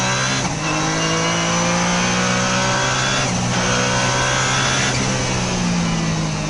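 Honda NSX turbo race car at full throttle on a track straight, a loud, continuous engine roar with sharp shifts breaking the drone every few seconds, close and dominant.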